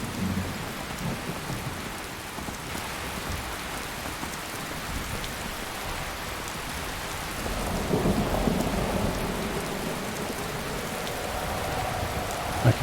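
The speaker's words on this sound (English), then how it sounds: "it just rains much too often" Steady rain pours in the video game Skyrim, with a broad hiss of falling drops and a deep thunder rumble swelling in the second half, no talking.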